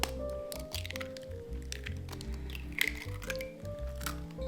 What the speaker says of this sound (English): then we're gonna crack in 10 eggs.